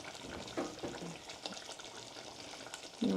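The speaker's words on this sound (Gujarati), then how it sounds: "ફાઇનલી પનીર ફ્રાય થઈ ગયું છે" Quiet, steady sizzling of paneer frying in a pan, broken by a few soft clinks of stirring.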